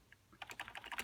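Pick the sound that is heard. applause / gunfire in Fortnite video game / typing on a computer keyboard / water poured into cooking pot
typing on a computer keyboard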